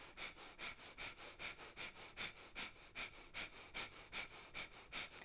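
Forceful Kapalabhati breathing during yoga practice: a steady train of about a dozen sharp, evenly spaced nasal exhalations, close and clear with no talking.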